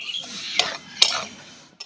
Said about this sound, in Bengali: সুজিটা একটু ভাজা করে নিয়েছি নেড়ে ছেড়ে